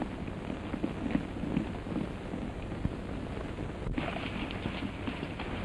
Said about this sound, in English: Well, there's Neil Denham's horse. He must have arrived.